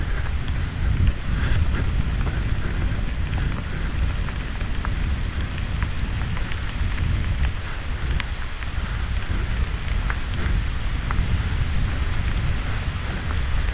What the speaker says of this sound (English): Just like a little kid out riding in the rain.